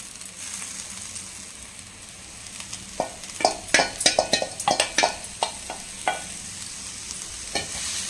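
A spatula stirs amaranth greens and grated coconut frying in a pan, giving a bed of steady sizzle with a burst of quick scraping strokes in the middle, close up and without talk.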